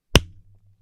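A single sharp hand clap marks the start of a horror podcast recording, one close, bright crack with a short ringing low hum trailing after it and no voices.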